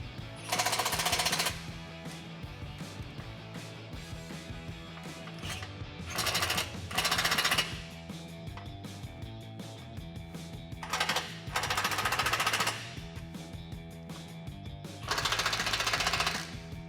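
A power tool drives a winch bolt with a 16mm socket on a Jeep Wrangler winch install, giving several short, loud bursts of rapid mechanical hammering separated by quieter pauses.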